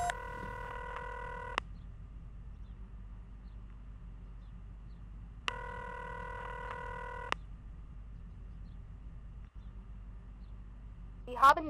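Two bursts of multi-tone telephone keypad dialing from the X-Files adventure game, each lasting over a second, sounding clear over a low background hum, with a faint electronic chirp at the very end.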